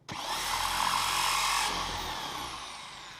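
A power drill whirs loudly and steadily at close range through a Toyota 86 front number plate and plastic behind it, bearing down briefly and then easing off, with no speech.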